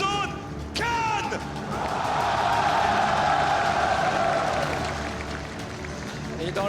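An esports arena crowd at a League of Legends match applauds and cheers, a swelling roar of clapping that builds and holds under a commentator's voice.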